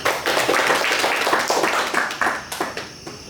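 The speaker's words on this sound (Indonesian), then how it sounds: "Mari kita beri aplaus untuk teman semua." Audience applause and clapping at an evening youth community discussion on digital literacy, a dense steady patter of many hands lasting a few seconds, tapering slightly near the end with a few louder individual claps.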